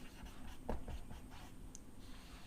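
Faint scratching of writing on a board during a chemistry lesson, a few short strokes over a low background hiss.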